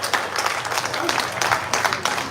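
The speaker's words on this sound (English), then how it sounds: "let's have a round of applause for all of our Supermatch competitors" An audience at a supermatch competition event gives a round of applause for the competitors, steady moderate clapping from many hands under a presenter's voice.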